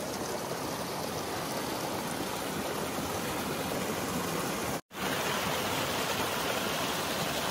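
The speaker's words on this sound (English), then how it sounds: "This is Willow Creek." Steady, full rushing of Willow Creek's flowing water along the Tahoe Rim Trail, a continuous close wash of stream noise with one brief dropout near the end.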